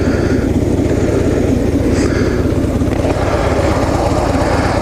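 A 2015 Harley-Davidson Street Glide with the 103 V-twin idles in neutral, a steady, loud, close low-pitched rumble running unbroken throughout with no voices.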